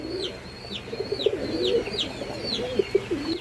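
Pigeons at a farm coo in soft, repeated throaty rolls close by, while a higher bird call repeats rhythmically above them.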